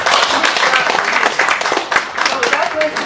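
Audience applause at an African Traditional Medicine Day celebration, a steady wash of clapping from a crowd filling the whole moment, fairly loud with some voices mixed in.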